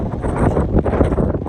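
Wind gusting across the exposed summit of Clingman's Dome on the Appalachian Trail on an icy March day, a steady loud buffeting rumble against the microphone.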